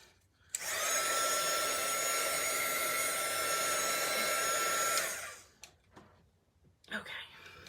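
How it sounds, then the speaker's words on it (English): A heat gun blows steadily for about four and a half seconds to dry a Chalk Couture chalk transfer, a loud close whooshing roar, followed by a few soft handling noises and quiet talk. "let me run in the heat gun for a second"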